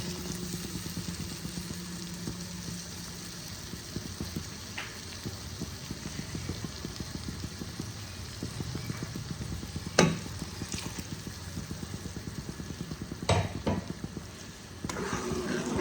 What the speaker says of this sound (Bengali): এবার আমি পালকের পেস্টটা দিয়ে দেব।